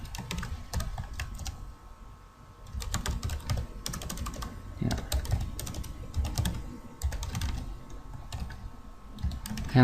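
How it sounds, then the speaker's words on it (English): Typing on a computer keyboard in bursts of rapid key clicks with short pauses between, close and fairly quiet, with no one talking. "let me just type it out"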